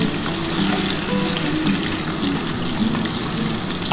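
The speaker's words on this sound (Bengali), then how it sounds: "লাল লাল করে ভেজে নিই বন্ধুরা দেখো।" Potatoes and spice paste for aloo dum sizzle loudly in hot oil, a dense, steady frying hiss filling the whole stretch with no talking.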